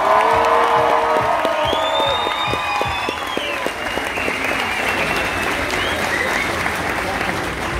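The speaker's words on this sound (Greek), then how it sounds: "θέλω ένα μεγάλο χειροκρότημα για τον άνθρωπο που τα τελευταία χρόνια επιμελείται στην εικόνα μου" A concert crowd at a live hip-hop show in Thessaloniki, Greece applauds in dense, sustained clapping with scattered cheers and whoops, loud and close, as a lingering tone from the stage fades out early.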